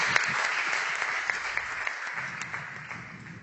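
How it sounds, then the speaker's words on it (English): Crowd applause inside ESL headquarters during a Clash of Clans livestream event, a steady patter of many hands clapping with sharp individual claps standing out, gradually tapering toward the end. "they're giving lots of applause for our friends here today"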